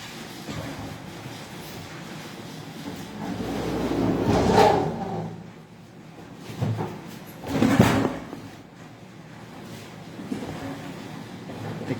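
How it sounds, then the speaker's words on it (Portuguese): A door to a winter garden is pushed shut, with a couple of soft, dull thuds and rattles rising over steady heavy rain noise. No voices are heard. "eu vou encostar apenas uma porta aqui do Jardim de Inverno"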